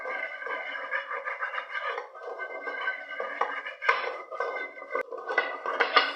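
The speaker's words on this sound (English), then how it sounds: "Start stirring. Continue to stir." A spoon scrapes and clinks steadily against a pot while oil bean (ugba) is stirred, a busy run of metallic scraping with brief pauses, fairly close and without talk.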